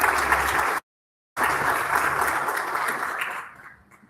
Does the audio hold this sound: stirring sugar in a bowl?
no